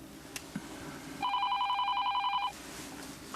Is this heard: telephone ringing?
yes